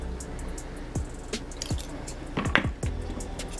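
Honey is squeezed from a squeeze bottle into a drink mixture of black pepper and other ingredients, giving several short, wet squishes and drips spaced across a few seconds at close range, with no voices.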